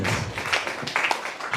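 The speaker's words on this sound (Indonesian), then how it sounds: "Berikan tepuk tangan bagi Yesus yang dahsyat." A congregation at a Batak church worship service in North Sumatra claps, a dense, steady patter of many hands close by, continuing without a break through the short moment.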